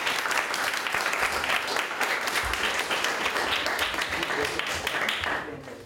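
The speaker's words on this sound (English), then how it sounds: "Clap for her." An audience at an ICAI Dubai Chapter talk claps steadily, a dense continuous applause that holds evenly before tapering off at the end, with a voice faintly underneath.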